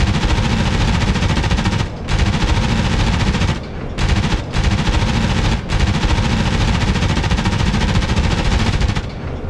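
A P-47 warbird strafes with its machine guns in the DCS flight game over Guam: loud, sustained automatic fire in long bursts broken by a few brief pauses.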